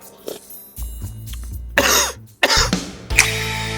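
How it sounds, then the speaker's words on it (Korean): Several sharp coughs in a row after eating convenience-store ramen, close and loud, with throat-clearing bursts between them and no talking. "이거 먹으면 이제 기침 나오기 시작하겠지?"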